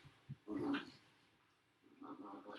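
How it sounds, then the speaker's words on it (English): Dogs fighting on an indoor floor make scattered growls and scuffling bursts at low volume, rising briefly, dropping to near silence, then resuming. "my dogs are fighting on the floor"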